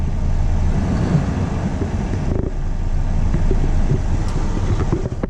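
The diesel engine of a new Volvo FH truck runs with a loud, steady low rumble heard close up from the cab, with a slight dip partway through.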